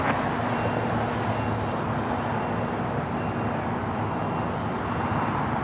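Jet airliner taking off from runway 25 Right at Los Angeles International Airport, a steady loud broadband engine roar held throughout without a break.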